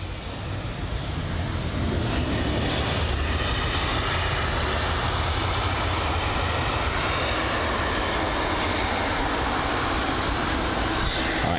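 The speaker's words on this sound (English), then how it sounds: "so that's the BA 777 that's just taxiing in front of us now" A British Airways Boeing 777-200 taxis at London Heathrow. Its jet engines give a steady, close whine and broad rumble that holds evenly throughout, with no talking.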